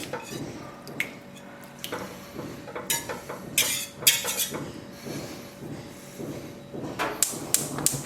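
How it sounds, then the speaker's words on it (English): A whisk breaks up cottage cheese curds in a metal pot, with irregular clinks and scrapes against the sides, wet sloshing, and a few sharper knocks spaced through the stretch. "now we'll break up our curds with a whisk"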